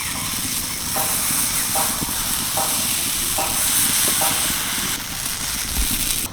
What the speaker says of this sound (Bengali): এতে করে দেখো কি সুন্দর ভাজা হয়ে যাচ্ছে